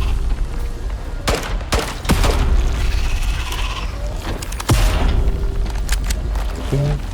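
Repeated gunshots from a gun in the survival video game Icarus: several loud, sharp cracks spread across the clip over a steady background rumble, with the shots irregularly spaced and fairly close.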